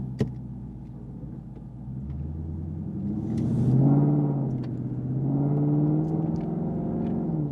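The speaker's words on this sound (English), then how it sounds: "Today we're going to be reviewing the Corsa Sport Exhaust for the 2015 Mustang" A 2015 Ford Mustang GT fitted with a Corsa Sport exhaust idles with a low rumble, then revs up twice in smooth rising swells before settling back, heard close and alone.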